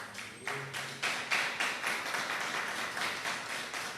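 An audience at a religious gathering gives rhythmic applause for Jesus, many hands clapping together in a steady, even beat that keeps going, moderately loud and somewhat distant, with no talking over it.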